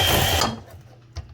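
Fruit cake batter with eggs, vanilla and rum being mixed by an electric mixer in a kitchen, a loud whirring burst that cuts off quickly, followed by a faint clink.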